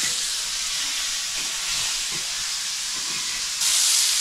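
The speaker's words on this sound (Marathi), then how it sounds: "ती कशी हलकीशी जरा फ्राय करून घ्यायची." Prawns fry lightly on a tava over a wood-fired chulha, a constant bright hissing sizzle that swells louder near the end, with faint low clatter beneath.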